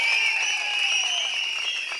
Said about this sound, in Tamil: நல்ல ஒரு கைத்தட்டல தாங்க